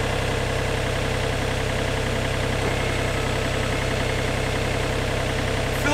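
A tracked machine on TerraTrack Plus rubber tracks runs steadily, its engine giving a constant low rumbling drone with a mechanical texture, heard from inside the cab with no change in level.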